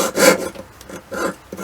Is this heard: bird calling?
no